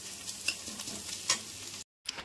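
Onion, ginger, garlic, whole garam masala and chillies fry together in oil, a quiet steady sizzle with a few spoon scrapes close at hand, briefly dropping out near the end.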